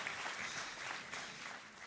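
An audience applauds a boss at a talk, a short burst of dense, steady clapping heard at a distance.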